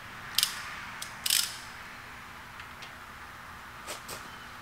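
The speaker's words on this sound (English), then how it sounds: "now just give them a snug with the wrench" A wrench snugs bolts on a DIY engine build during piston installation, giving a few quick, faint ratcheting bursts separated by pauses against a quiet hum.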